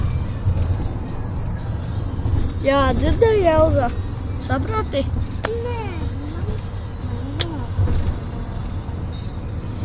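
A steady low engine rumble and road noise inside a moving car, with voices and someone talking over it throughout.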